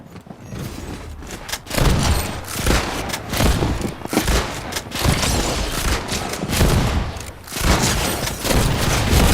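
Video game gunfire in dense, overlapping volleys, loud and sustained bursts with heavy booms broken by short lulls, repeating through most of the stretch.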